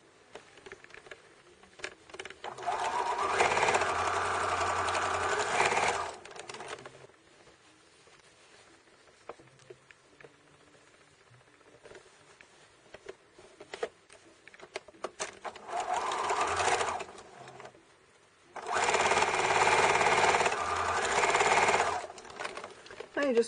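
A sewing machine stitches fabric for a pin cushion scrap bag in loud rapid bursts of a few seconds each, separated by quieter pauses with soft handling noises.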